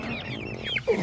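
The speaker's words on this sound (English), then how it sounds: "This is my Americana rooster" An Ameraucana rooster on a small homestead gives short, close clucks and squawky calls, with a sharp higher note near the end and a soft low background.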